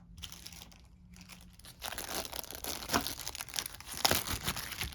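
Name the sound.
plastic bag crinkling while unboxing game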